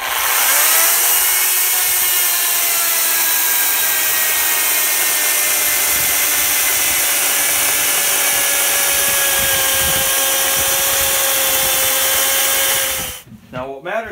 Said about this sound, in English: See if this chain will permit a bore cut.